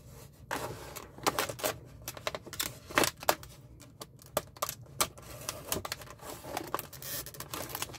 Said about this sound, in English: We got our Fiskars Pro brand new blade in here and see if we can get it open here.